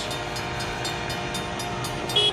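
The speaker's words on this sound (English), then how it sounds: "This driver can't think he can beat a train." A train rolls toward a rail crossing with a loud, steady rumble and a regular rhythmic clatter of wheels over track joints, and a brief squeal near the end.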